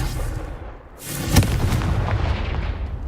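Confringo spell exploding in Hogwarts Legacy, a sudden loud booming blast after a brief lull, followed by a rolling, rumbling tail that slowly fades.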